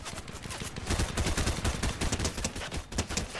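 Rapid SMG fire in a Fortnite match crackles continuously, a dense stream of close, loud shots with slight rhythmic pulses and no pauses, with no voice over it.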